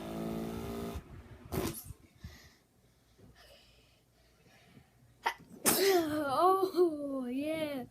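A man sneezes in a fan sneeze challenge: a sharp sneeze rings out close, a second abrupt burst follows a few seconds later, and then he talks loudly.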